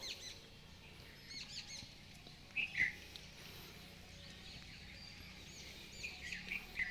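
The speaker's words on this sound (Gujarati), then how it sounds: "પંખીડાનો અવાજ આવતો હોય તમને સાંભળો" Faint, brief bird chirps sound in the distance now and then over a quiet village outdoor background.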